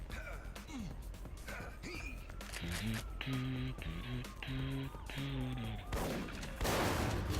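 Pump shotgun blasts in Duke Nukem: Manhattan Project, a few heavy shots among game music and effects, with someone talking throughout.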